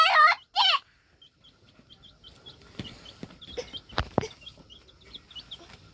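Chicks and chickens cluck and chirp in short repeated calls, fairly faint and scattered, with a few louder sounds nearby.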